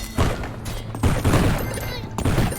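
Explosions in the UnderMine dungeon-crawler game: three loud, close, booming game blasts with thuds follow one another about a second apart, with no voice over them.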